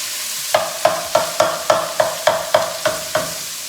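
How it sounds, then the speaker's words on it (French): A spoon taps down on onions frying in a pan, eight sharp regular knocks about a third of a second apart over a steady sizzle, close and clear with no talking. "vous prenez la cuillère et vous tapotez sur les oignons pour les séparer"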